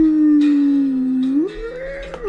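Long wolf howl, a clear tone that holds steady, then slides upward into a higher sustained note, close and loud with a faint yip near the end, no talk.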